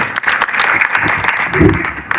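An audience at a public outreach meeting in Nawgai, Bihar applauds to welcome a speaker, with dense continuous clapping that stays loud and near for the whole stretch.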